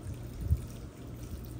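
Garlic-seasoned water poured for a Cuban-style shrimp cocktail, a soft, faint trickle and splash lasting under two seconds with a small burst in the middle.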